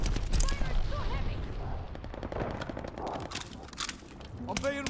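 Heavy gunfire from the Call of Duty: Vanguard beta on the Hotel Royal map, a dense, continuous battle din of rapid shots and clatter with a voice talking over it.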